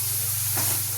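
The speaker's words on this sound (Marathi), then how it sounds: "हे छान परतून घ्यायचं।" Vegetables sautéing with chutney, turmeric and black chili powder for a moong mogar dal and tomato dish, a loud steady hiss and sizzle filling a short moment, with a brief stir midway.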